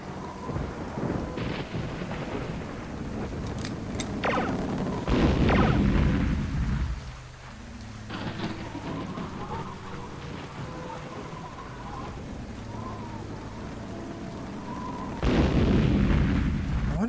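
Thunderstorm in the video game Journeyman Project 2, with steady rain hissing throughout and several heavy rolling thunder crashes and booms, a big one near the start and another at the end.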